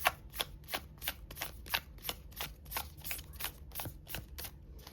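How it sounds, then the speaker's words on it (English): A springy tarot deck being shuffled close by, a quick run of crisp, regular riffling bursts about three per second with no talking. "Here, I'll give it one more shuffle."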